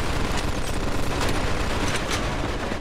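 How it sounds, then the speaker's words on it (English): Dense, sustained automatic gunfire from a machine gun nest in the Mafia 2 video game, a rapid and continuous close-range barrage with heavy booming low end that holds steady throughout. "Looks like we found the machine gun!"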